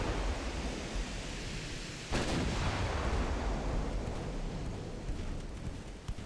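Warship secondary guns firing in Ultimate Admiral Dreadnoughts, a dense rumbling barrage with a heavier boom partway through, all over a constant roar of sea and battle noise.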